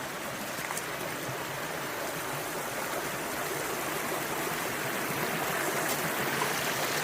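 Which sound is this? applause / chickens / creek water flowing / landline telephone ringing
creek water flowing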